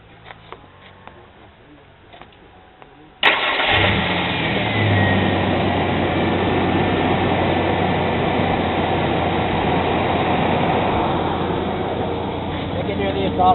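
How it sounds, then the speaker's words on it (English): A truck engine cranks and fires abruptly after a quiet stretch, then runs with a loud, steady exhaust rumble close by for the rest of the clip. "I'm gonna be starting up the two trucks here so you guys can hear how the exhaust sounds."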